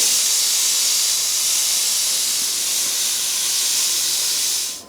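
An XTool MetalFab laser welder working on metal gives a steady, loud, broad hiss that holds evenly for about five seconds and then cuts off abruptly at the end. No voices.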